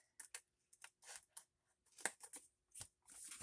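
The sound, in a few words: scissors cutting out playing-card journaling cards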